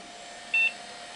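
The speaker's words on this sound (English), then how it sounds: "Beep." An Amiga computer lets out one short, clean electronic beep at power-on, a brief single tone heard close over a faint steady hum of the running machine.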